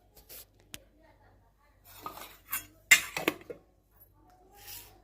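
Spoon and utensil clinks and scrapes while packing a tiffin with khichdi, mixed vegetables, onion, jaggery and roti, scattered soft clatters and a few louder metallic taps in a quiet room.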